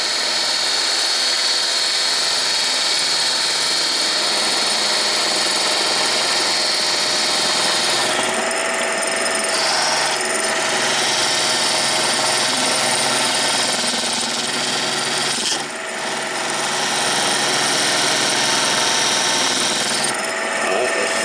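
A wood lathe turning a bottle jig, with a steady, loud broadband whir and hiss of the tool cutting the spinning wood that runs continuously and shifts slightly in tone as the cut changes.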